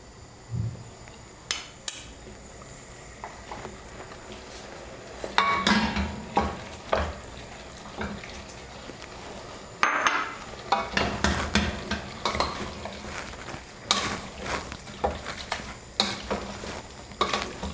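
Spinach and quinoa cooking in a pan, soft steady sizzling under repeated scraping and clinking strokes of a utensil stirring, with irregular knocks against the pan.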